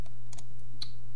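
A single key is pressed on a computer keyboard, giving a short, close, crisp click followed by a few lighter taps against a steady low hum. No one speaks.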